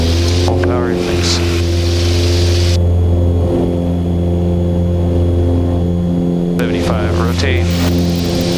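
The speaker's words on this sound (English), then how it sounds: "Full power release." A multi-engine airplane runs at full takeoff power on the runway, a loud, sustained engine roar with steady harmonic droning, heard from inside the cabin with a voice over it at the start and end.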